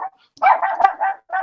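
A dog barks close and loud in several quick gruff bursts with short pauses between them, alone and without talking.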